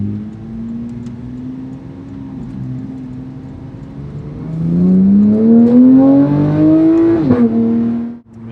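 A Porsche 991.2 GT3 engine idles with a low hum, then revs up in a rising, loud rasping climb before dropping back abruptly and cutting off.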